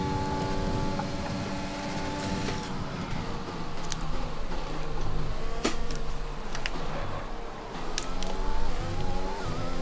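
A Mercedes Formula 1 car races in the F1 2020 video game. The engine whines loudly and continuously, rising and falling through gear changes, with faint tire noise over about ten seconds.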